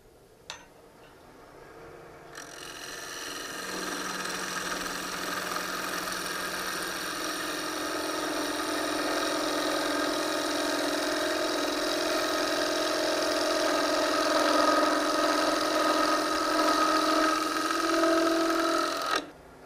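A wood lathe spins steadily while a bowl gouge takes a roughing cut on a piece of wood, a continuous humming whir with a scraping, shaving texture that grows slightly louder over the cut, with no talking.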